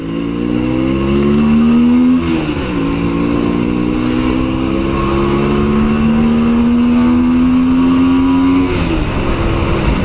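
A Honda Shadow 125 custom motorcycle with a carburettor runs close by, its engine tone climbing steadily in pitch, dropping briefly twice, then rising again, loud and continuous with no talking.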